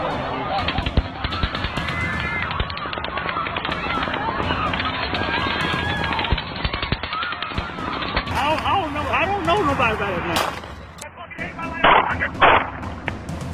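Rapid bursts of gunfire from the Las Vegas Strip mass shooting crackle in dense, repeated volleys, heard amid crowd noise and voices at a distance in news footage.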